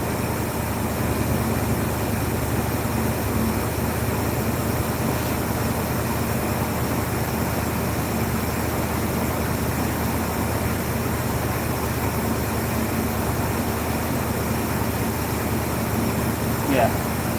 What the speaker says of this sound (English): it's idled up right now, but the choke plate's still a little closed